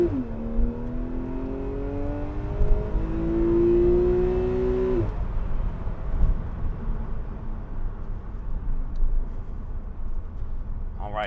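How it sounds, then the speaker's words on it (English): A 2013 Porsche 911 Carrera 4 with a 3.4-liter engine accelerating hard, the engine note rising through several gear changes over about five seconds before dropping to a lower, rushing drone of road and wind noise. "this car's warmed up, so I'm going to give you a sense of the acceleration"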